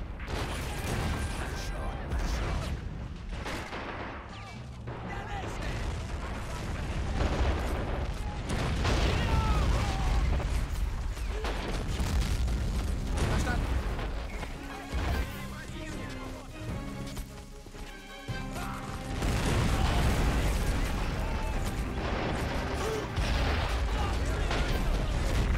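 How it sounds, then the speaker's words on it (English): Enemy mortar fire in the game Men of War 2, with repeated booming impacts and crackling explosions over a constant rumble of battle, with a voice talking intermittently over the din. "So we get a lot of mortar. Because there's so many enemy mortar around here."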